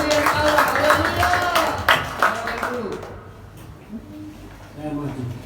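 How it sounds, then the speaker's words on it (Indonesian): Congregation clapping at a Christmas service in a GPdI church in Tambun, Cibitung, a dense burst of hand claps filling the first half and fading out, with voices and a musical tone beneath. "Berikan tepuk tangan untuk pemberian Allah."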